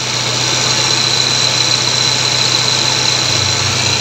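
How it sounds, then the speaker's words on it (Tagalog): A loud, noisy air compressor runs steadily throughout, a dense mechanical drone and hiss with a low motor hum that shifts slightly near the end, close and alone. "Disregard yan kasi maingay na yung compressor"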